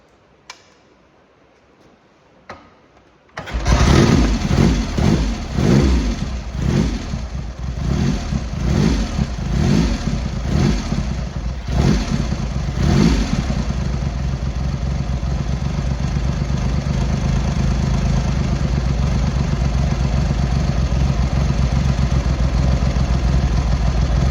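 A Triumph Hurricane motorcycle engine, just refitted with its carburettors and not yet warm, starts up after a few clicks, gives several revving pulses, then settles into a loud, steady, slightly rough idle with a ticking clatter.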